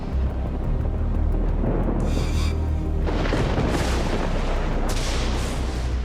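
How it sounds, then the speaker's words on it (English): Thunder from an Alpine electrical storm rolls as a loud, continuous deep rumble, with heavy crashing swells around the middle and again near the end, no voices. "Every time I hear the thunder crash"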